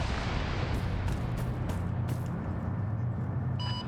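An aircraft gun run in a military video game: a steady, dense roar of distant rapid cannon fire rumbles continuously, with a few sharper cracks early on, heard alone.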